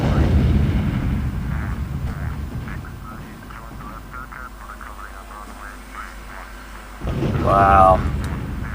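Bombs burst across enemy airfield hangars in the F-22 Total Air War flight game: a heavy, continuous low rumble of blasts that eases off in the middle, then swells again near the end, where a brief voice-like sound cuts in.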